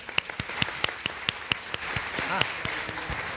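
An audience at a book panel for a children's fantasy series claps in a sparse, uneven patter of individual hand claps, moderately close, with faint voices underneath.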